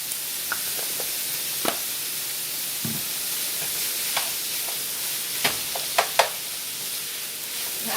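Ground beef, onions and minced garlic are stirred in a hot pan for a Southwestern casserole: a soft steady sizzle with scattered scraping clicks of the utensil, a few sharper taps near the end.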